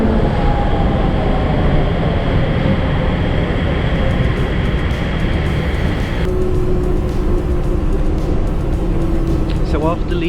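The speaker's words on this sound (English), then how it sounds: "I've taken the train to another part of Odaiba" A train in Tokyo's Odaiba area rumbles loudly and steadily along the rails, a close continuous roar that shifts in tone partway through, with faint tonal whines and no clear talking.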